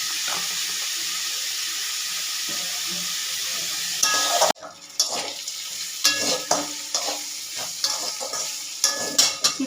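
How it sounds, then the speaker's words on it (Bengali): Snake gourd fries in a pan with dried red chilli and nigella seeds, giving a steady hissing sizzle that breaks into a sharp burst before settling into irregular stirring and crackling, close and moderately loud without speech. "চিচিঙে ভাজা করব"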